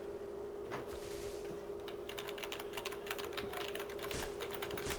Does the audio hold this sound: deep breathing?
no